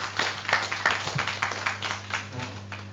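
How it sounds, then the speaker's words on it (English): Applause from a workshop audience, a steady patter of many hands clapping at moderate volume with a low steady hum underneath, continuing for the whole stretch. "I think he needs a bigger applause."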